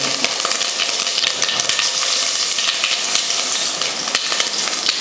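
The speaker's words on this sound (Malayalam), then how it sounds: "നമ്മളുടെ എണ്ണ ചൂടെ നമ്മൾ കടുക് പൊട്ടിച്ചു അതിലേക്ക് കറിവേപ്പില ഇട്ടിരിക്കുകയാണ്" Mustard seeds and curry leaves fry in hot oil in a pan, giving a dense, close, continuous sizzle with sharp crackles and pops and no talking.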